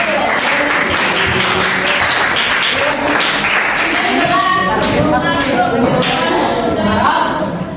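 A classroom group applauds a student after a short hobby introduction, giving a dense, continuous burst of clapping mixed with murmurs and light chuckles throughout.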